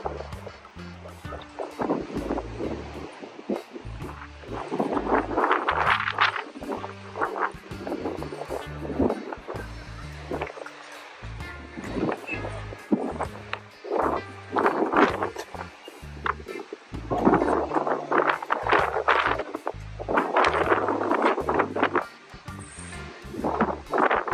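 Strong, gusty wind on a cold, stormy day in Sydney, Australia, buffets the microphone in loud, rolling bursts that rise and fall throughout, with no voices.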